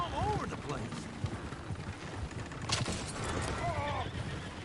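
A horse whinnies in Red Dead Redemption 2 with hooves clopping underneath, a couple of high neighs rising over busy outdoor commotion, and people talking.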